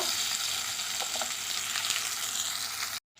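Potatoes and eggplant fry in tempered oil for a gourd-greens dish, a steady dense sizzle close up, with a few faint stirring scrapes, cutting off abruptly near the end.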